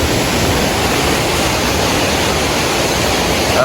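Steady, loud rush of a small Konkan river's flowing water, a continuous broadband wash up close with no talking over it.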